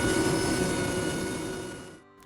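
The 600-pound engine of the Memphis Belle, lashed on with straps, runs in a loud, steady droning roar close by, then abruptly drops away near the end.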